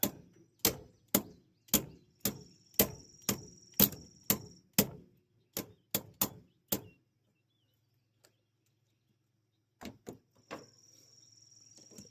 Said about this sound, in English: we're going to take my favorite hammer, and we're going to walk it back down